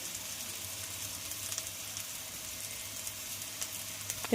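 Spice paste of ginger, garlic, cumin and coriander with salt and chilli powder frying in a pan, a faint, steady low sizzle with occasional tiny crackles, no talking.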